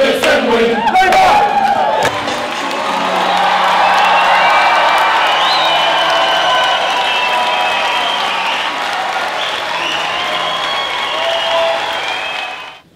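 A Labour Party rally crowd in Auckland cheers, claps and shouts for Jacinda, a loud, sustained roar of applause and whoops that swells and then carries on steadily until it fades at the very end.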